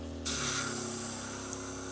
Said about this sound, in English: Let's do a quick test spray.